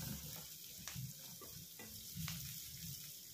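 Chopped curry leaves dropped into hot oil in a pan: a quiet, crackling sizzle with short bursts of spattering and a few spoon scrapes, with no talking.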